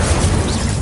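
A fire spell cast in Hogwarts Legacy bursts as one loud, dense whoosh that lasts the whole short moment, with heavy low rumble and nobody speaking.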